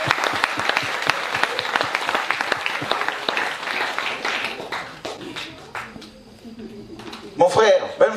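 A church congregation in Taravao, French Polynesia, applauding to acclaim God during a sermon: loud, sustained clapping from a large crowd that fades after about five seconds, followed by a few brief voices.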